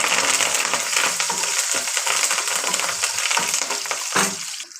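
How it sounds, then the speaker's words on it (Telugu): Curry leaves and garlic cloves frying in hot oil for a puri curry, a loud continuous crackling sizzle with scattered pops and spits throughout, close up and without talk. "కరివేపాకు వేస్తున్నాను."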